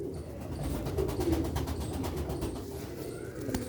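Sialkoti rooftop pigeons coo softly in a loft, their low, throaty calls repeating over a steady background rumble, with no talking.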